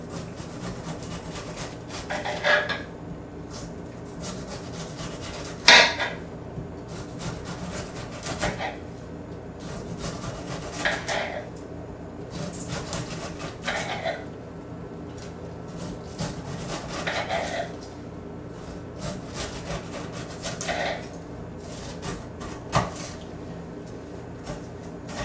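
A knife slices down through a pineapple standing on one end, giving a series of scraping, crunching cuts in an irregular rhythm, close and moderately loud over a quiet room.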